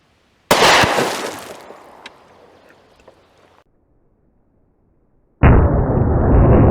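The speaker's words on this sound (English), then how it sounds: "We're shooting these water jugs with a 230 grain Federal HST, 230 grain Federal HST plus P variety out of the Glock 30" A Glock 30 pistol fires Federal HST 230 grain +P rounds into water jugs. One loud sharp shot is followed by a fading splash and trailing rattle, and then another loud, abrupt burst near the end.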